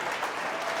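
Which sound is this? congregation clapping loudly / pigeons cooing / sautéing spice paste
congregation clapping loudly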